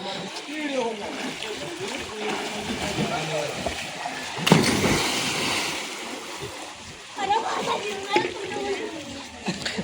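A sharp splash of someone diving into a village well, hitting mid-clip over a steady wash of water noise, with voices talking throughout.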